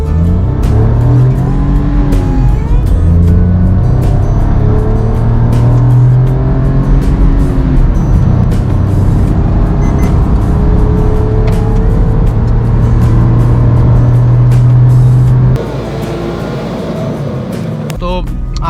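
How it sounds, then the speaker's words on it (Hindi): A 2022 Maruti Alto K10 with an AMT gearbox accelerates hard from 0 to 100 km/h, its engine droning loud and close from inside the cabin. The pitch climbs through several gear changes, then the engine eases off near the end. "सो अब ऑल्टो K10 का एक 0 से 100 कर लेते हैं।"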